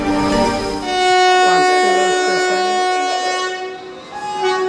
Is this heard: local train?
yes